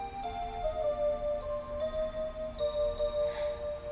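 A clock ticks steadily at a quiet, even pace, about two ticks per second, over a faint sustained ringing tone, like lingering chime resonance, in a still room.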